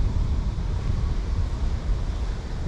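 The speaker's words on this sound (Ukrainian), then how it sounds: "це ще невеликий вітер, але він отак посилюється, посилюється." Steady spring wind in open grassland buffeting the microphone, a continuous low roaring rush with no pauses.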